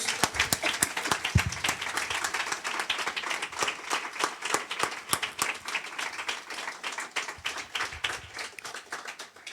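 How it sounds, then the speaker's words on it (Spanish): Steady, enthusiastic applause from a church congregation during worship, dense clapping sustained throughout at a consistent loud level. "Dale un fuerte aplauso a nuestro Dios."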